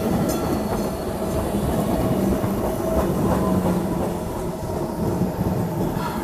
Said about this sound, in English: just a short clip of the, well, what Buffalo calls a subway.